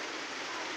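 Rain falls as a steady, even hiss of dense patter throughout a brief moment, fairly soft and with no voices.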